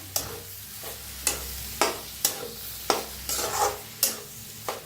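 A spoon repeatedly scrapes and stirs bread pakora vegetable filling in a pan after salt and coriander are added, in roughly regular strokes over a faint background sizzle, close and fairly clear.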